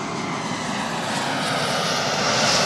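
A fixed-wing airliner takes off, its engines producing a loud, steady, broad roar that swells slightly toward the end, with no voices.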